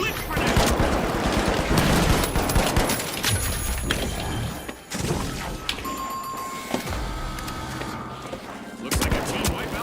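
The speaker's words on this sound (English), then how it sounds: "Using glitch grenade." Glitch grenade detonating amid a video game firefight, a loud, dense burst of explosive crackle and rapid gunfire that keeps rumbling for several seconds, with a voice talking over the chaos.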